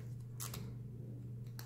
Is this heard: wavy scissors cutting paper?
yes